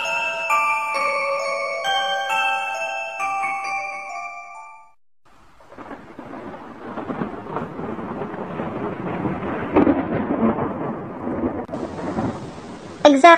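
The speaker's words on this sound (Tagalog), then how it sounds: "biglang pagbuhos naman ng isang malakas na ulan" Steady heavy rain hisses and roars after a brief stretch of music, with low rumbles of thunder mixed in and a sharp thunder burst near the end.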